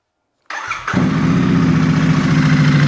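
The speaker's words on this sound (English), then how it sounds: "We now need to run the bike up for a minute or two and then check our level and top up accordingly." A Royal Enfield 650 motorcycle engine cranks after a moment of silence, catches, and settles into a loud, steady idle close by.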